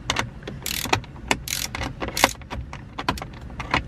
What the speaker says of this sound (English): I just have to unscrew them. So I'm just gonna unscrew them.